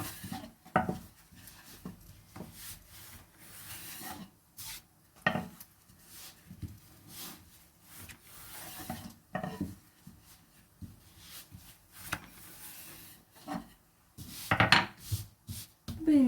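Balls of gözleme dough rolled out with a wooden rolling pin on a board, a soft repeated rubbing and knocking with irregular thumps and pauses, close and fairly quiet.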